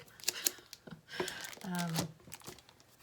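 A pet chews and crinkles plastic packaging in short, uneven bursts of crackling and rustling. A soft voice is heard partway through.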